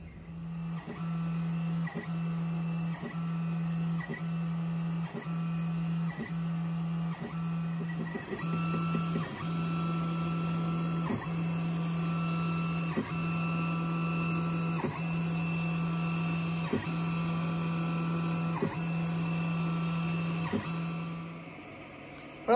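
A laser module on a FOX Alien 4040-XE CNC engraving plywood, its motors giving a steady electronic hum broken by regular clicking movements, nearby and continuous with no talk.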